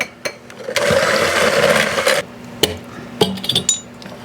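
Ingredients being mixed in a bowl, a steady whirring mixer run of about a second and a half followed by sharp clinks and taps of a utensil against the bowl, close and without speech.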